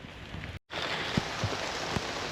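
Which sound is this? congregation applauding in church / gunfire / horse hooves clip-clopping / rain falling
rain falling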